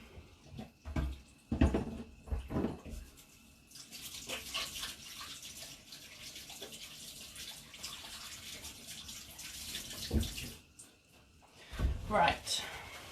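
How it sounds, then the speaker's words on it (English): Hands are washed under a running kitchen tap during falafel preparation, a steady hiss of flowing water with splashes in the middle stretch, bracketed by a person talking before and after. "So I'm just going to wash my hands quickly."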